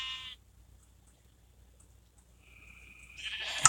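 Sheep bleating on a video game farm, one brief bleat at the start, then quiet before another bleat swells at the end.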